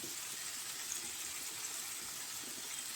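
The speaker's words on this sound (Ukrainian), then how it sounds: "Зараз зливаю воду." Water poured off freshly boiled young potatoes from a pot, a quiet, steady hiss and splash of draining liquid with no voices.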